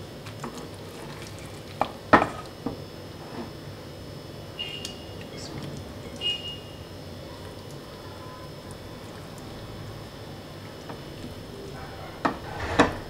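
Spicy chicken is stirred in a pan over a soft, continuous frying sizzle, with a few scattered clinks of the utensil against the pan.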